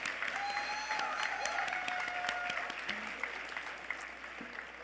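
A banquet audience applauds after a hoop dance performance, a steady patter of clapping that stays moderate and fades slightly toward the end, with a few faint voices underneath.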